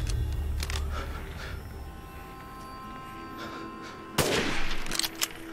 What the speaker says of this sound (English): it's one shot from the sniper rifle will kill them